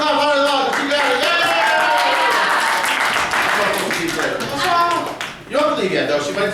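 An audience at a teen comedy showcase claps along in bursts while people talk and cheer loudly over the top, the hand claps partly buried under the voices.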